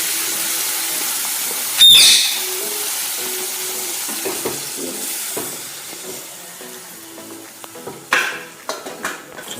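Masala cooking with tomato puree for chole in a pan, a steady low sizzle broken by a sharp clatter of the spoon near the start and more scraping, stirring knocks toward the end, with no talk.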